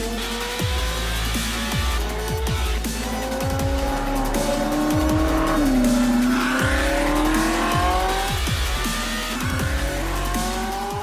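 A Lamborghini sports car roars with engine revs and long tire squeals, the pitch sweeping up and down continuously as it skids and accelerates, loud and close.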